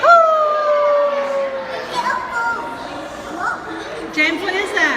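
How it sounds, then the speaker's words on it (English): Coyotes howl and yip outdoors, with a long falling wail at the start and further cries following, while nearby voices talk over them. "The coyotes howl."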